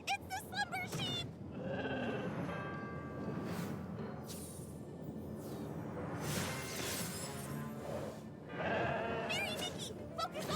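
Slumber sheep in the Infinity Nikki video game bleat in several quavering calls, loud at the start and again near the end, mixed with magical whooshes, game music and voices talking.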